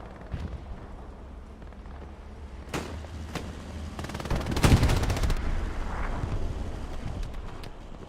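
Machine gun fire from a match of the WWII shooter Hell Let Loose crackles in a dense burst amid other battlefield gunshots and rumbling, fairly loud and near.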